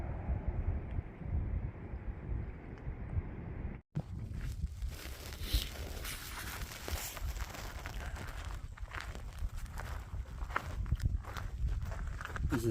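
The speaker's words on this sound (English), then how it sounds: "It is freezing and it's" Blustery, freezing winter wind rumbling against the microphone on a mountain at Fort Mountain State Park, with a brief cut partway through, then continued gusty noise and crunching outdoor sounds.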